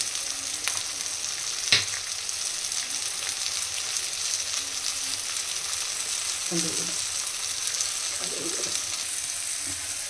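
Steady close sizzle of chili and turmeric powder frying with ginger-garlic paste in hot oil for Bengali bhetki fish jhal, with a few faint clinks of stirring over the continuous hiss.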